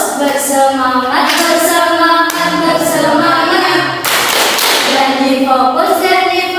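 Schoolchildren in a classroom chanting a rhythmic clapping routine together, voices in unison punctuated by sharp group claps close by.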